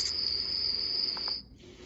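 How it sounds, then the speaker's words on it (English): An OnLyee portable white noise machine plays a crickets track, a continuous high shrill chirping drone that cuts off after about a second and a half. "crickets,"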